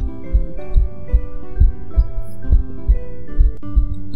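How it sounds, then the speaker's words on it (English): Steady heartbeat thumps in the Baby Hazel video game, low lub-dub pulses repeating about twice a second over a faint background hum, clear and continuous with no talking. "I hear heartbeat."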